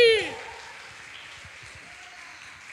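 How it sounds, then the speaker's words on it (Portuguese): A church audience at a live regional children's and youth ministry event claps as a dense, faint patter that follows a brief loud voice at the start and holds steady throughout. "Quem gostou, aplaude a Jesus bem forte."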